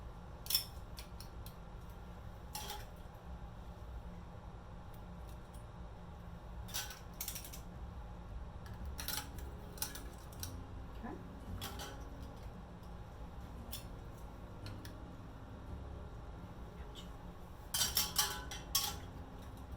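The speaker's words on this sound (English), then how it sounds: "Now, the trick is to go ahead and get this screw right closed." Metal lids being screwed onto glass jars of hot pepper Tabasco jelly, heard as scattered clinks and gritty twisting scrapes, quiet and close, with a denser cluster of clatters near the end.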